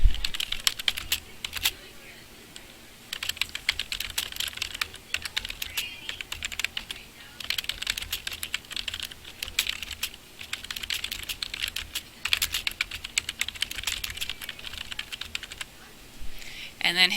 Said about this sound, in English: Here you can type your welcome message.